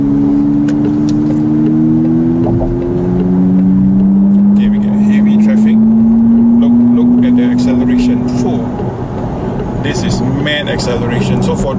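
An electric car on a test drive pulls away smoothly, its motor giving off a rising, steady whine under road rumble while someone talks continuously over the drive.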